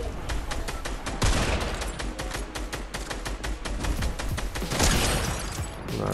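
Rapid bursts of video game weapon fire crack out in dense, steady volleys across the whole stretch, loud and close, with a couple of heavier impact hits standing out.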